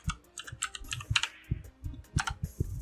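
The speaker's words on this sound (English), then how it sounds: "So I'm just going to type in that dollar amount" A dollar amount is typed on a computer keyboard, giving a close run of quick, uneven key clicks and taps with brief pauses, and no voices.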